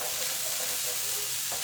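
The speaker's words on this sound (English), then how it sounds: "So you just stir the rice around and make sure it's all coated." Veggie fried rice with tofu stirred in a hot pan, a loud, dense, continuous sizzle with light scraping movement throughout, with no talking.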